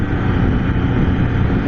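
A Can-Am Spyder F3 three-wheeler's 1300cc three-cylinder engine runs with a loud, steady, close droning roar that holds level throughout, with no talking.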